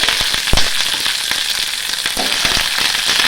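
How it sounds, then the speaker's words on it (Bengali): Curry leaves and chillies crackling and spitting in hot oil, a dense close sizzle with sharp scattered pops throughout, loud and continuous, with no talking. "দিয়ে দেবো কারি পাতা কারি পাতা দিয়ে দেবো"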